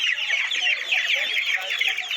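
Many chicken chicks peep and cluck continuously in a dense, high-pitched chorus, steady and fairly close throughout, the chicks wet and shivering from cold.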